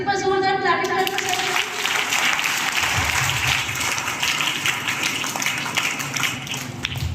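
A crowd of schoolchildren at a Veer Bal Divas school event clapping loudly, a sustained, dense burst of applause that starts just after a spoken voice and carries on to the end.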